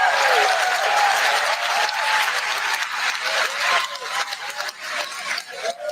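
An audience claps in sustained applause from a played-back recording, dense at first and slowly thinning, with a voice briefly audible at the start.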